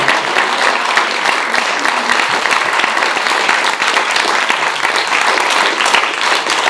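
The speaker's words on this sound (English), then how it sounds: "because I think Mariska deserves a very large sound of applause because she did a fantastic job." An audience at a panel discussion gives loud, sustained applause, a dense unbroken roar of many hands clapping close by that carries evenly through the whole stretch, with no voices standing out.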